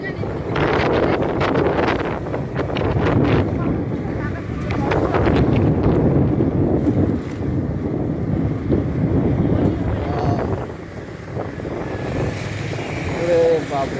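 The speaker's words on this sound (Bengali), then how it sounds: "ভয়ঙ্কর ঝড় আসবে বলুন দেখ হাওয়া উঠছে পুরা" Strong wind rising outdoors ahead of a storm, buffeting the microphone with a loud, continuous rushing roar that surges and dips throughout.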